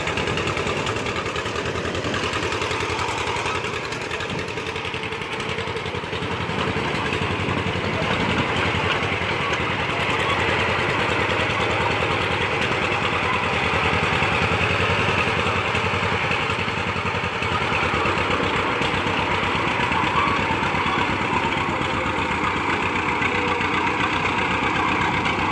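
A 1946 John Deere BO Lindeman crawler runs steadily in a driveway, its engine giving a continuous chugging, slightly rough mechanical drone with no talking.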